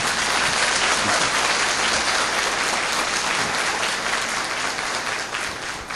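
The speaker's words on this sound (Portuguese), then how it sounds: "precisa bater novamente palmas" Audience at a spiritist group lecture breaks into a dense, sustained round of applause, loud and steady for the whole stretch, easing slightly only at the very end.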